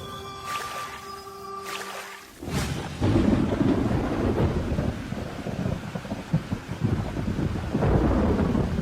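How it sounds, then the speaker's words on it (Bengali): Thunder rumbles over a steady downpour of heavy rain in a stormy dawn sky, a loud rolling crack early on giving way to continuous dense rainfall close by. "ভোরের আকাশ কালো মেঘে ঢেকে আছে, ঝমঝম বৃষ্টি পড়ছে"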